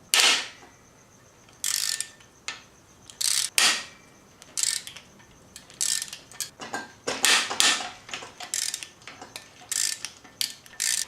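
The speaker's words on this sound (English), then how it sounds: "when you're loosening the bolts, you're going to go from the outside in." A ratchet with a 14mm 12-point socket clicks in repeated close bursts while loosening cylinder head bolts during a rod-knock engine teardown, with short pauses between strokes.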